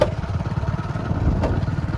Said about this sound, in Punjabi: ਮੋਟਰਸਾਈਕਲ ਚਲਾਈ ਜਾਂਦੇ ਆ